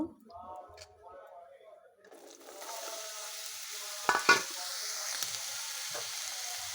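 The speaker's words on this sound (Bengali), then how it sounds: "কড়াইয়ে তেল দিয়ে দিচ্ছি প্রথমে বেগুনটা ভেজে নেব" A voice speaks briefly before eggplant hits hot oil in a wok, setting off a steady sizzle punctuated by a couple of sharp clinks and stirring scrapes.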